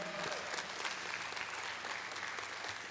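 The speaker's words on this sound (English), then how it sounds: "Everybody give her a round of applause." An audience at a music awards ceremony gives a steady round of applause, dense clapping that is fairly distant and even throughout, with a faint voice briefly underneath.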